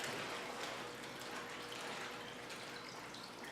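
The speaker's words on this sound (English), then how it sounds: "I'm going to go ahead and release the water into the tank along with the fish." Water poured out of a bag into a home aquarium along with baby cory catfish, a steady close splashing gush that runs the whole time with no talking.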